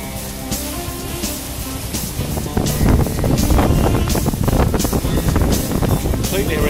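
Wind aboard a Shearwater 45 sailing yacht in about 12 knots off Greece: a constant rushing buffet across the microphone with a water wash below, growing louder partway through.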